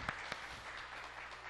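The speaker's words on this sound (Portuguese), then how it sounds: "palmas para Jesus" An audience at a spiritist seminar claps in a brief, fairly quiet burst of applause, with a couple of sharper individual claps standing out near the start.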